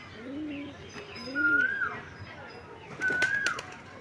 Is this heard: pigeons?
yes